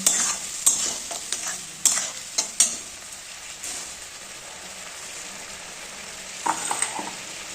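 A little water added to frying spice paste for Bengali-style aloo dum brings a few loud scraping stirs, then a softer, even sizzle that flares briefly again near the end, with no talk.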